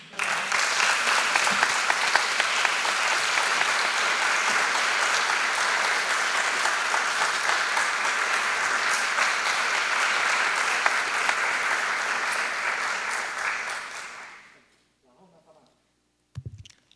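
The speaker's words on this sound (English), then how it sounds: "Applause to appreciate Elena's presentation" A large audience at an amateur orchestra forum in Shizuoka applauding steadily for about fourteen seconds, dense and sustained, then fading out into near silence.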